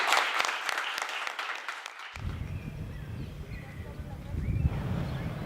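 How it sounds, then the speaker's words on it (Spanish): A crowd at a civic meeting on human security in Mexico breaks into loud applause, a dense burst of clapping that cuts off abruptly midway, leaving a quieter room murmur behind. "Fuerte aplauso para todos ustedes"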